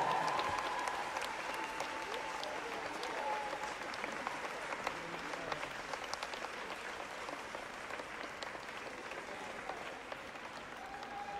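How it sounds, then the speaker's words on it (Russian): Spectators at the Autumn Moscow Cup professional Latin semifinal give a long, sustained round of applause, dense and even from a large hall crowd, with a faint voice briefly audible beneath the clapping. "Ваши бурные аплодисменты,"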